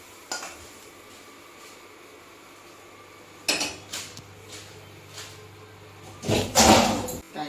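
Cooked okra and potato curry being tipped and scraped into a serving dish, with quiet clinks of a utensil on the pan and a louder clattering burst near the end, no one talking.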